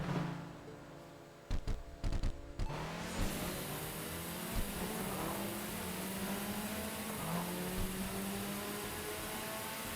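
A nitrous-equipped race car in the Tokyo Xtreme Racer video game revs and accelerates through rising and falling engine pitches after a few sharp clicks, loud and continuous with no talk.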